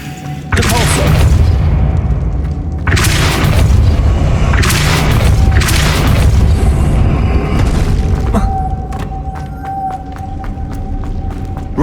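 Spell blasts from Hogwarts Legacy gameplay, a Depulso force push among other casting: several loud booming bursts in quick succession, each a broad crash with a rumbling tail, over a steady game ambience and a faint tone.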